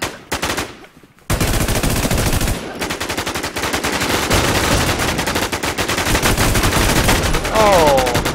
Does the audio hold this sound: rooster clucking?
no